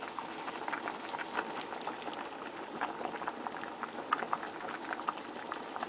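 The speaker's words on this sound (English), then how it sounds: "Try to make sure they get in the boiling." Potato soup boiling in a pot on the stove, an even bubbling simmer with small irregular pops, moderately close and steady with no talking.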